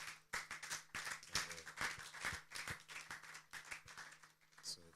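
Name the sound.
applause from conference audience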